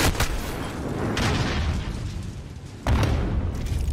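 A Molotov cocktail bursts in Call of Duty: Modern Warfare, loud booming fire that roars steadily for several seconds before a second sharp burst flares up near the end.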